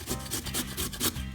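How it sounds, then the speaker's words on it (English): Carrot rasped across the large holes of a flat grater, about six quick, rhythmic scraping strokes close up, fairly quiet and with no talking. "we'll take a carrot and we'll grate it"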